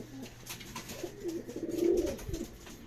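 A racing pigeon cooing at its loft after returning from a training flight, soft repeated low coos close by over faint background noise.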